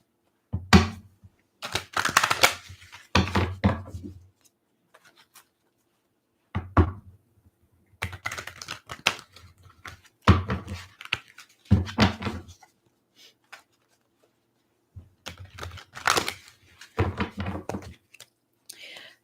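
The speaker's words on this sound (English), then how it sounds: "Just going to shuffle the cards for a bit while I wait for people to come and join." Tarot cards being shuffled by hand, heard as several bursts of dry riffling, tapping and knocking on a table, separated by short pauses and fairly close.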